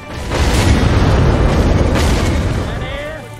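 A musket volley fires in a Roblox battle, one loud rumbling boom of overlapping shots that swells quickly and slowly fades over several seconds, then trails off into a softer tail.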